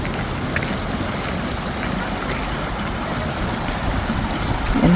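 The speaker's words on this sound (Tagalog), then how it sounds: "may ilog dito eh" A river flows steadily past a rural walking path in the Canadian countryside, a continuous broadband rush of moving water that holds at an even level throughout with no voices.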